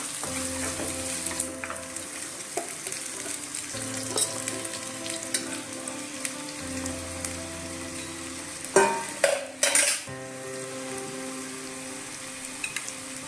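Finely chopped onions sautéing in a pan after cinnamon, cardamom and clove go in, a steady sizzle with occasional stirring clinks and a short burst of louder scraping near the end.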